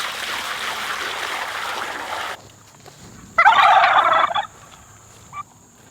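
Turkeys in a coop let out a sharp burst of rapid gobbling, loud and near, after a stretch of hissing running-water noise, with a brief second call near the end.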